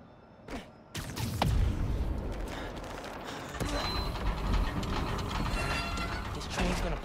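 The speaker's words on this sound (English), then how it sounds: "This train's gonna block that one." A train in the Spider-Man: Miles Morales video game rolls into motion with creaking, clanking mechanical rumble and metallic ratcheting, loud and close, building after a brief quiet start and continuing steadily.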